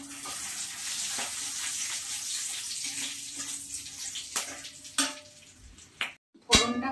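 Whole cardamom, cloves, cinnamon, dried red chillies and bay leaf sizzle in hot oil for tempering, a steady close hiss that thins out toward the end, with a few utensil clinks and no speech.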